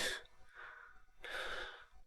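Two sharp, harsh coughs close by, separated by a short pause, with nothing else around them.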